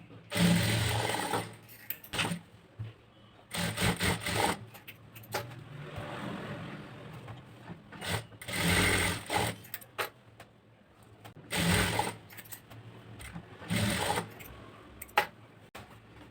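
A sewing machine stitches a blouse neck design in loud, close bursts of rapid mechanical whirring, each lasting a second or two and separated by quiet pauses with faint handling noises.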